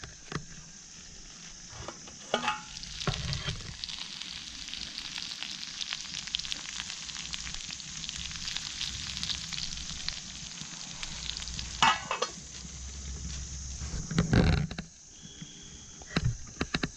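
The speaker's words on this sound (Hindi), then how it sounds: "देखो हम कुकिंग कर रहे हैं, इसमें बीन्स हैं, ठीक है। पटाटो है, ऑनियन है, कैबेज है," Beans, potato, onion and cabbage frying in a pan at a forest campsite, a steady broad sizzle with occasional stirring scrapes and clatters, close and continuous with no talk.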